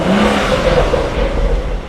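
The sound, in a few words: BMW engine starting and revving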